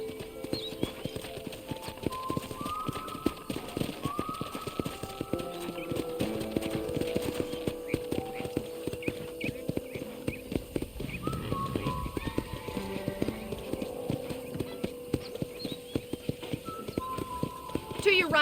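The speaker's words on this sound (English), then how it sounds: "let's see if you can still ride a horse." Horse hooves clip-clop steadily while riding through a ranch in Red Dead Redemption, a brisk rhythmic trot under game music and character talk.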